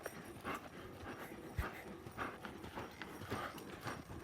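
A horse lopes under a rider, its hooves falling in a soft, repeating three-beat clip-clop at a fair distance, quiet and even throughout.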